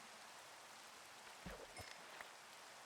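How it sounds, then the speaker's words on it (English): Rain falling in the video game Minecraft, a faint steady hiss of drops with a couple of soft brief thumps partway through. "It started raining on me"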